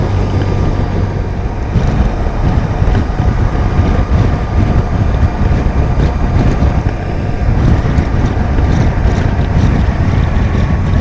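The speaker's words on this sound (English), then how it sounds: "Still may be a little windy." Constant wind roar buffets the microphone while riding a BMW R1100 RT motorcycle, a loud, steady rush with low engine rumble beneath and no talking.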